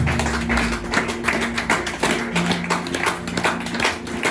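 A church congregation applauding, dense steady clapping from many hands filling the room, with a sustained musical tone beneath and bursts of rhythmic accent, loud and close throughout.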